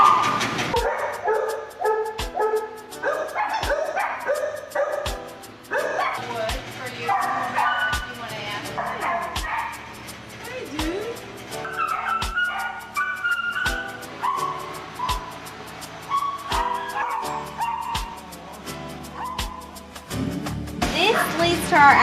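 Many dogs bark and yip inside animal shelter kennels, a dense, loud, echoing chorus with repeated sharp barks and some whimpering, while a person talks under the din.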